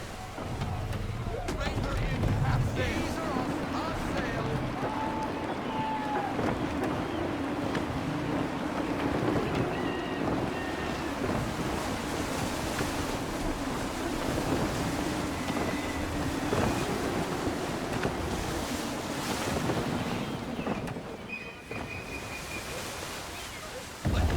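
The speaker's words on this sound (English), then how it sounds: "Wind looks to be shifting. Stay alert, Connor. Gusty winds can be difficult to manage." Gusty wind and rolling waves surround a sailing ship in the video game Assassin's Creed III, a constant roaring wash of wind and water with creaking hull sounds, as a voice speaks over it.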